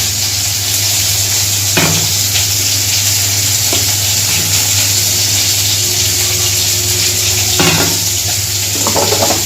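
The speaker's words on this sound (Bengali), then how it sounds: "মাছটা ভাজা ভাজা হচ্ছে একটু পানি দিয়ে দিই" Fish fries in a pan with a steady, loud sizzle. Water added to the pan brings short bursts of spattering and stirring noise over the constant frying, and nobody talks.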